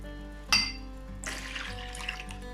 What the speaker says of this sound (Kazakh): Оған жылы су мен жылы сүтті үлкенірек ыдыс алып құямыз